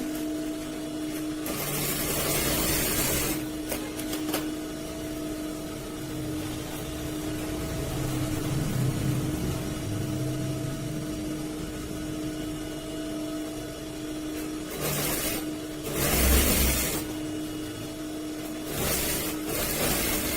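A sewing machine stitches the shoulder seam of a blouse, its steady whirring motor hum running continuously with brief louder bursts near the end, and no one talking.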